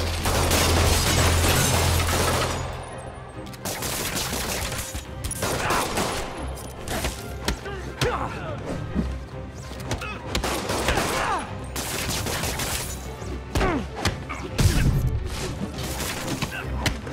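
Gunfire in the Spider-Man PS4 video game, with dense bursts of rapid shots, crashes and impacts layered over a loud action soundtrack, with shouting voices in the mix.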